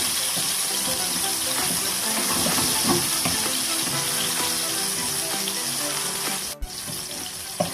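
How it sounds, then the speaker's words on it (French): Onions fry in hot oil for Ivorian alloco, giving a steady, dense sizzle that hisses continuously at close range, with a brief dropout near the end. "Une fois que l'huile est chaude, on va d'abord mettre les oignons. On va griller les oignons."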